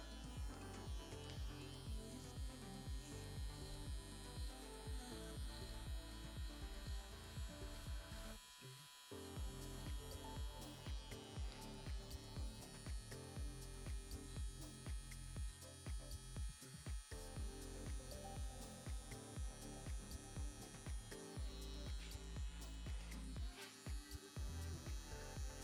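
A JRL electric hair trimmer runs close by with a steady high buzz, holding on throughout except for a couple of brief drops in level.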